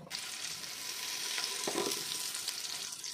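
Greens such as coriander leaves fry in oil in a pan, giving a steady, close hiss and crackle that holds through the whole stretch, with brief stirring scrapes partway and no voices.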